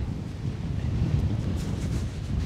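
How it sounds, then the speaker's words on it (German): Strong wind buffeting a pier in Tarifa, a loud, continuous low roar and rumble of gusts blowing across the microphone, with no voices. "hier auf diesem Steg ist das unwahrscheinlich windig"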